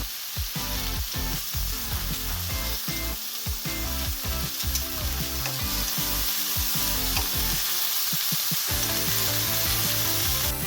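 Sausage and peppers frying in a pan while being stirred: loud continuous sizzle with repeated scraping and clattering stir strokes, close up, with no talking.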